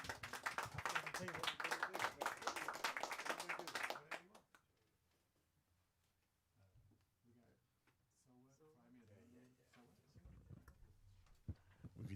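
A small jazz club audience applauds a vocalist with a jazz trio, producing a loud dense burst of clapping that fades after about four seconds, followed by quiet room sound and talk.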